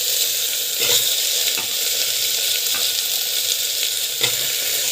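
Taro frying in a pan with salt and asafoetida, a steady close sizzle with faint stirring scrapes throughout.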